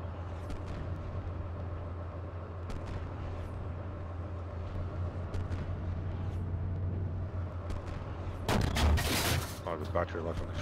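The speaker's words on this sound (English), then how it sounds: "Good artillery." Distant artillery rumbles under steady battlefield noise in a Schwaben Creek Valley war game, then a heavy, close blast erupts near the end followed by smaller bursts.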